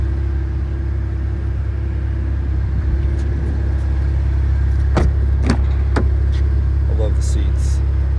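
A 2023 Cadillac CT4 Blackwing's engine and exhaust in track mode, a steady low rumble throughout with a few sharp bursts near the end, while a person talks over it.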